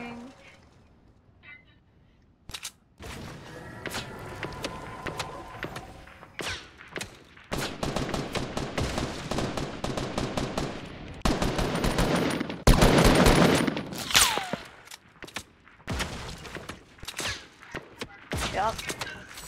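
Gunfire in Fortnite crackles in rapid bursts and scattered single shots, growing denser and louder toward the middle, with players talking over it.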